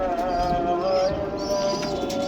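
A pigeon coos steadily at close range with a low, rolling tone, with faint chirps from other birds in the background and no talk.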